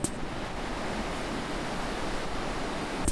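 Ocean waves wash steadily onto a beach in an even, continuous roar of surf, close and fairly loud, with no voices.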